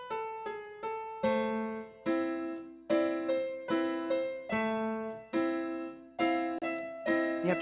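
Mozart's Turkish March plays slowly on piano with both hands together: clear, evenly spaced notes with steady decay and a bass line under the melody, close and alone without talk.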